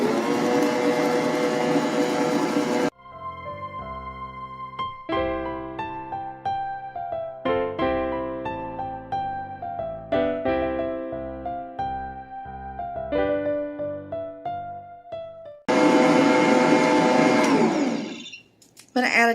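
An electric stand mixer beating cake batter as eggs go in one at a time: a loud, steady whirring drone for a few seconds at the start and again near the end, with instrumental music filling the stretch between.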